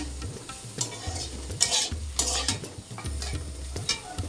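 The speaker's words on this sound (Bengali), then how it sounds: "দেখো যে আলু ভাজা বসিয়েছি" Potatoes fry in a pan with a close sizzle while a utensil stirs and scrapes in repeated bursts, punctuated by low thumps of the pan, with no talking.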